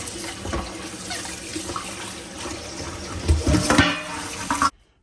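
Tap water running into a sink while raw beef is rinsed, a steady splashing flow with a louder surge near the end before it cuts off abruptly.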